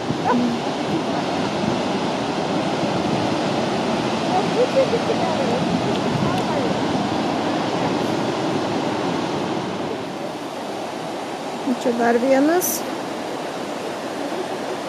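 A Yellowstone waterfall roars as a constant, loud broadband rush throughout, with a brief spoken remark and a few faint chirps near the end.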